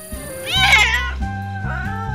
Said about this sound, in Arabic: شوف هذه قطوة برية